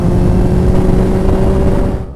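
A straight-four car engine turns over steadily in fifth gear at about 30 mph and 2000 rpm, a loud, even low drone with a constant hum that fades slightly at the end.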